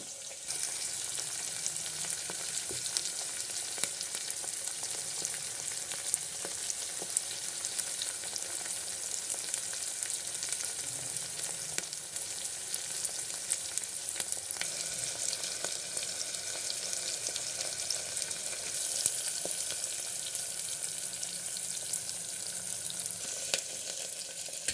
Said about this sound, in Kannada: ಫ್ರೈ ಮಾಡ್ಕೊಳ್ಳಿ.